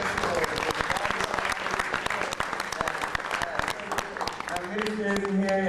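A reggae film festival audience breaks into sustained applause, thick clapping from a large crowd, while an amplified voice talks over it near the end.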